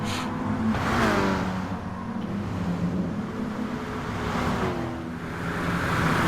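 Race cars including a Lamborghini roar around a Tokyo circuit in a racing video game, with engines swelling and fading as cars pass and rising whines under acceleration, a steady mid-distance engine drone with no speech.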